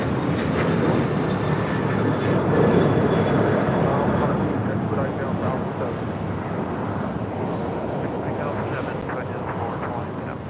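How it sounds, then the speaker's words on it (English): A United Airlines Boeing 737-900ER takes off at LAX, its jet engines producing a loud, steady broadband roar that fills the whole stretch and eases slightly toward the end. "Next takeoff is United Airlines Flight 2146 heading to Denver on a 737-900 ERs."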